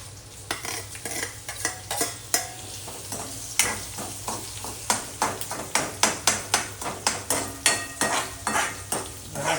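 Onion frying in a pan, a low sizzle under a rhythmic series of sharp spatula knocks and scrapes against the metal, repeating roughly every half second, close and fairly loud.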